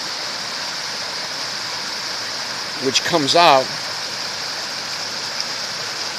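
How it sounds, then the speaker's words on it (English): Mine Brook in Cobalt, Connecticut flows with a steady hissing rush of water throughout, with a brief burst of speech near the middle. "So again, this is the mine Brook."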